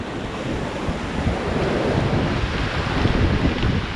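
Raft paddled through river water while rafting, with a constant loud rushing roar of flowing water and wind buffeting the microphone, broad and steady with no distinct individual strokes.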